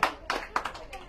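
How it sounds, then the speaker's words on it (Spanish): Scattered clapping from guests at a birthday party, several quick irregular bursts of applause close to the microphone over a short stretch. "Un aplauso para Reinaldo."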